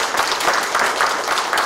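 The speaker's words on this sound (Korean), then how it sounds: "박수 한번 쳐주세요." Audience applause at a mayor's third-anniversary press conference in Yeoju, Korea, a steady burst of many hands clapping close by, brief and continuous without a break.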